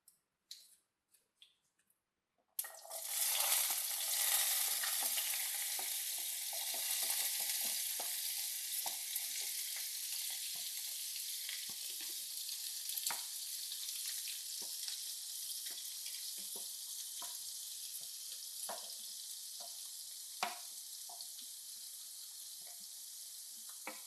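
Ridge gourd curry fries in a pan with mustard seeds, a loud, constant hiss that starts suddenly after a short quiet stretch and runs on with small crackles and stirring clicks.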